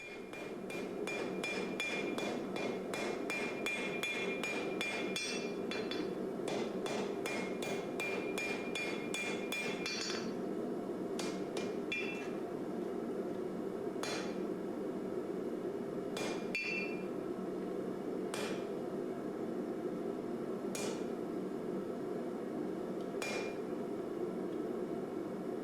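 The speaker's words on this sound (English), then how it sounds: "I'm just using real light hits with the hammer to do that." Light hammer blows ring out on hot metal at an anvil while forging crucible tongs, in a quick rapid series, then slow to single spaced strikes, with a steady background hum.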